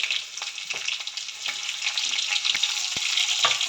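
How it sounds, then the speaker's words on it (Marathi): Cumin and mustard seeds fry in hot oil in a kadhai, a bright, busy sizzle with scattered pops and crackles that builds slightly and holds steady to the end. "कडेमध्ये मी तेल घातलं तेलामध्ये जिरा आणि मोहरी घालायची"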